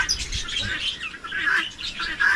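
Birds in an outdoor aviary squawk and chirp in a busy, overlapping chorus close by, with shrill calls repeating throughout and no talking.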